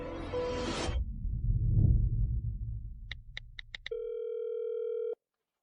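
A phone call is placed to a switched-off phone, heard after a rushing whoosh: several quick beeps, then a steady flat tone held for about a second before it cuts off abruptly. No one speaks.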